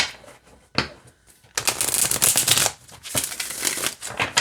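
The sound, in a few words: shuffling a tarot card deck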